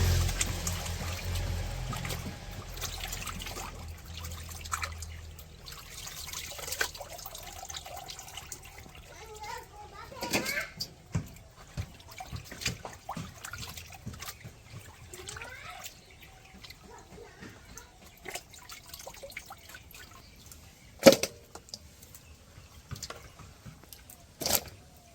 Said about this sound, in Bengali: মাছগুলো ধুয়ে নিতেছি।